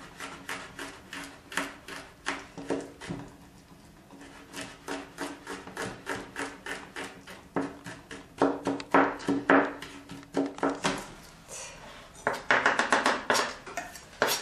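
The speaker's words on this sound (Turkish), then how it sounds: "Önce sarımsaklarımızı doğrayalım." Steady rapid knife chops through garlic on a wooden board, rhythmic taps that quicken and grow louder toward the end, close up with no talking.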